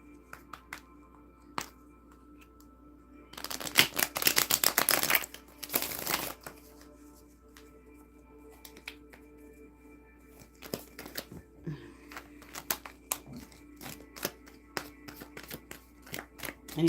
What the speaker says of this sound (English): One butterfly shuffle.